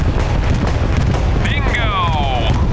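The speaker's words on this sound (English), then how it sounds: "Oh, good artillery strike." Artillery strike explosions in the Hell Let Loose video game give a continuous low rumble of distant booms and blasts under a loud battlefield din, with a whistling, descending tone partway through and voices mixed in.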